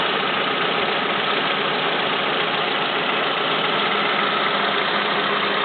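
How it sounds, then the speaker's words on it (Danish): A Skoda Octavia engine idles close by with a steady, even rumble and hum that holds at a constant level throughout, with no voices. "Den her motor var ikke lige så spændende som de der gamle motorer."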